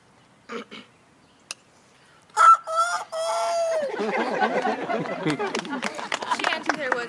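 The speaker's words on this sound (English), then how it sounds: "a rooster." Rooster crowing in a barnyard, a single loud cock-a-doodle-doo in the middle, preceded by short clucks and followed by a voice speaking continuously.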